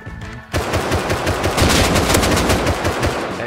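Rapid automatic machine gun fire in the video game Rust, a loud sustained burst of closely spaced shots that starts sharply after a brief quiet moment and continues without pause to the end.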